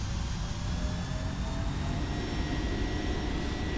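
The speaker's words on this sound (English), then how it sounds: "Oh, those engine sounds." Steady, continuous aircraft engine drone from the X-Plane 11 flight simulator during a slow approach, a broad low rumble holding at an even level throughout with no talk.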